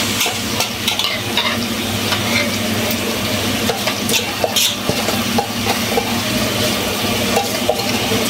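Chopped onions frying in a pan and stirred, giving a steady close sizzle broken by repeated scraping and clinking of the utensil against the pan.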